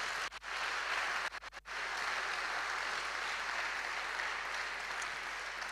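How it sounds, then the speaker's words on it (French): Crowd applause for a pastor at a church congregation gathering, a steady broad wash of clapping that runs loud and continuous throughout, with a few brief dips near the start. "Est-ce qu'on peut l'acclamer très fort?"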